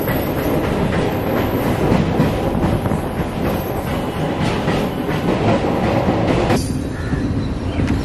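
The Delhi Azamgarh Express passing close by, a loud, continuous rumble of wheels and carriages with rattling clatter and occasional squeal throughout.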